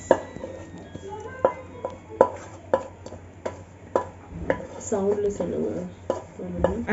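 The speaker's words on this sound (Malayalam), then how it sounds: "We will add the entire masala in this." Masala goes into chana masala curry in a pan, with a spoon tapping and scraping against the pan in a steady rhythm of sharp clinks, while a person talks over it.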